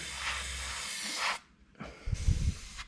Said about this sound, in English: So I'll just clean out my spray gun.